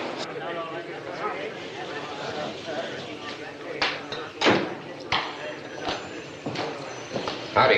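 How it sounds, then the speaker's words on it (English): Horses' hooves clop in an uneven rhythm in a Western town setting, with scattered sharper thuds, under people talking. "Ray, put these horses where they won't be seen"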